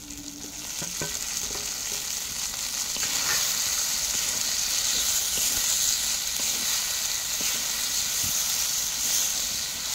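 Pre-fried eggplant pieces added to a pan of sautéed onion masala for eggplant dopiyaza, with a steady close sizzle and hiss of hot oil continuing throughout and no one speaking.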